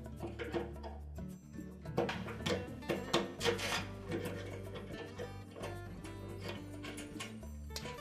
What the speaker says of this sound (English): Flat blade screwdriver, and just pry it away from the shaft.